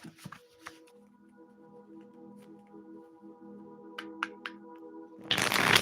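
Soft papery riffles and a few sharp card snaps of tarot cards against a quiet background, ending in a louder burst of cards being shuffled together up close.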